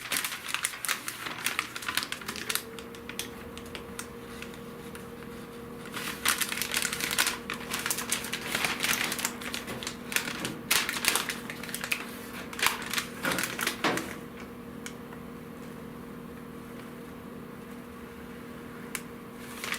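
Cornering light openings being cut into the fenders of a 1970 Buick Wildcat under restoration: a steady tool whine runs beneath bursts of crunching, scraping metal, faint and uneven, with quieter gaps between cuts.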